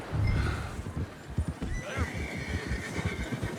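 A horse in Red Dead Redemption 2 gives a clear whinny while its hooves clip-clop in a steady, close rhythm, slowing as the rider comes to a stop.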